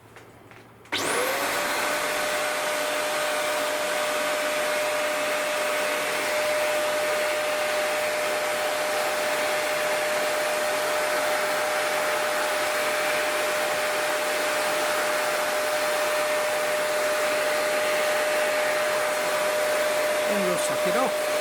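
A vacuum cleaner switches on after a short pause and runs as a loud, steady whine for about twenty seconds while collecting grass fibres from a model railway ground cover, with no talk over it.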